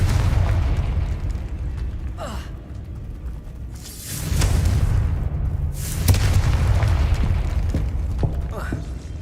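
Booming fire-spell explosions from the Confringo curse in Hogwarts Legacy burst loudly in waves with whooshing magical effects, under a dense game soundscape with a voice speaking.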